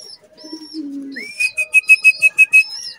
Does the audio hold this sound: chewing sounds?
no